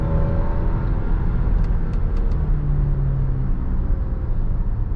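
A 2024 Alfa Romeo Stelvio Veloce with 280 horsepower accelerates, its engine a steady, loud rumbling drone heard from inside the cabin with no talk.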